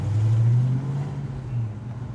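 Ford Mustang GT engine running during a drive, with a low steady drone, louder at first and then easing slightly, with some wind rumble.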